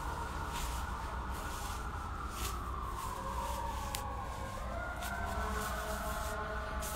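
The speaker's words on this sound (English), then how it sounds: "That's a lot of sirens." Several emergency vehicle sirens sound outside at once, overlapping wails that slowly rise and fall, faint and distant over steady background noise, with no talking.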